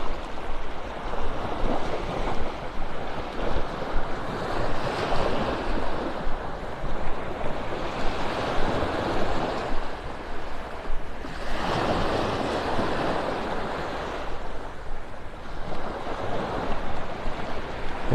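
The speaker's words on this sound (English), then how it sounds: "listen to the little waves lapping on the shore" Small waves lap steadily along a beach shore in North Naples, Florida, with continuous washing surf rising and falling in gentle surges over light wind.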